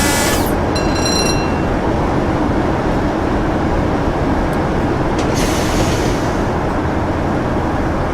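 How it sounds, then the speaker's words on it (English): Brake rubbing on a Class 47 locomotive in Train Simulator 2018: a continuous loud rolling rumble with high squealing tones near the start and again around the five-second mark. "There's some brake rubbing sounds, which is a first."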